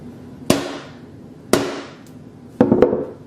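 A hammer strikes a Galaxy Note 8 phone screen in sharp, loud impacts. One lands, then a second about a second later, then a quick double hit near the end, each cracking and ringing briefly.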